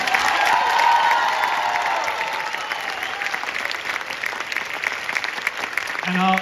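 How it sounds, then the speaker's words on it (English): A high school spring jazz concert audience applauds loudly and steadily, the clapping gradually easing off toward the end, where a faint tone briefly cuts in. "So how about one more round of applause for Mr. Mills?"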